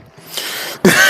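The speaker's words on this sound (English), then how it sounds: "Those are not real coughs." A person fakes two quick, dry coughs close to the microphone, the second louder and sharper than the first.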